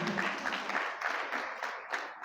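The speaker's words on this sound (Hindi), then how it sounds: "चलो जोरदार ताली तो बजाओ पुण्यशालियों की।" Applause from an audience at a Hindi-language religious talk about Acharya Vidyasagar in Udaipur, a steady wash of many hands clapping with slight surges, moderately loud and continuous with no talk over it.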